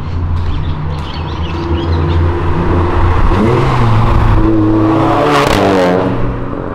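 Cars on Avenida Europa, a city avenue, downshifting and revving hard, one engine note dominating up close with pitch jumps at each gear change and a loud surge near the end, other traffic whirring underneath.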